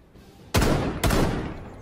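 Gunfire in the video game Rainbow Six Siege: two loud, sharp bursts about half a second apart, each ringing out briefly over a low background rumble, with no talk.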